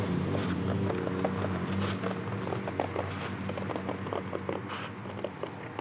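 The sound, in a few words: scissors cutting paper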